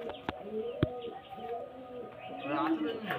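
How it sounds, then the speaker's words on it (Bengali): Several pigeons cooing in low, repeated rolls at moderate distance, with a couple of sharp knocks and some voices in the background. "দেখুন খুব সুন্দর পায়রা।"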